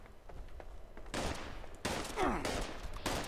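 Automatic pipe pistol gunfire in Fallout 76, with rapid bursts of shots in a few loud clusters over a steady background of game noise.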